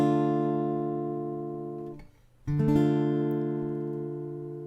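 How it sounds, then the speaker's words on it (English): A minor chord rings out on a sustained keyboard-like instrument, held steadily and fading slowly, then cut off briefly before the same chord is struck again and left to decay, with no voices. "The next chord type is the minor chord."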